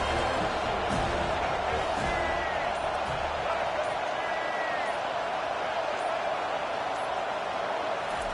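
A stadium crowd roars in EA College Football 25, a dense, sustained wall of cheering noise that stays loud throughout with occasional whoops rising above it, and a commentator's voice faintly underneath.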